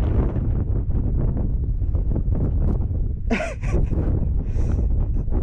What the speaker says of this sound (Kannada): ಆ ಕಡೆ ಅಂತೂ ಬಾಳೆ ಗಾಳಿ ಗಪ ಗಪ ಗಪ ಗಪ ಅಂತ ಹೊಡಿತಿದೆ